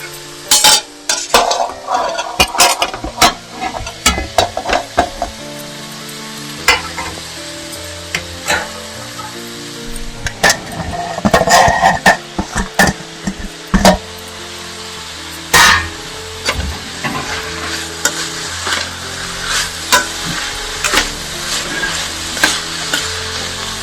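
Cauliflower, capsicum and half-cooked onion sizzle in a pan, with steady frying hiss and repeated spatula stirs and clinks against the metal, loud and close, no talk.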